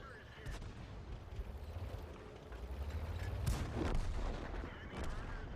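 Tank gun firing shells in the World of Tanks video game, a few heavy booming shots spaced apart amid low engine rumble and battle noise, fairly faint overall.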